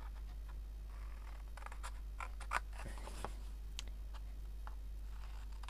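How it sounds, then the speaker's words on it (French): Small scissors snip paper in a series of short, sharp cuts, quiet and close, during a craft project making a sticky-note holder, with a steady low hum underneath. "Alors, on prend les petits ciseaux,"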